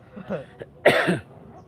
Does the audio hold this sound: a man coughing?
yes